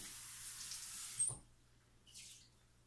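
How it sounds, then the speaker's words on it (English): Running tap water splashes into a plastic container used for lye water while it is rinsed, a steady hiss that cuts off abruptly, followed by a faint brief trickle. "let me rinse out my lye water"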